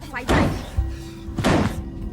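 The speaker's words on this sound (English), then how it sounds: "They're breaking down Meredith's door right now" A door is being broken down in a house, with two heavy thuds about a second apart, loud and close, mixed with voices.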